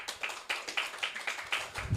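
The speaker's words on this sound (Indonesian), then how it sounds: "Tepuk tangan lagi." A group of junior high Scouts and students claps in a steady patterned rhythm, around eight crisp beats in quick succession, close and moderately loud with a low thump at the end.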